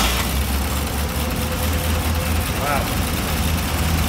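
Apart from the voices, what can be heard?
1932 Buick Picnic Car engine started and idling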